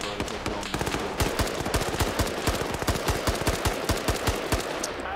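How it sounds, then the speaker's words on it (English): Gunfire in the Arma video game: rapid bursts of automatic shots crack out in dense, irregular volleys, loud and close, continuing for several seconds without pause. "Oh, I just shot someone clean in the back."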